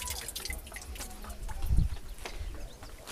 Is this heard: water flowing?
yes